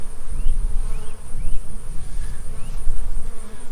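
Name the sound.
honey bees buzzing around an opened hive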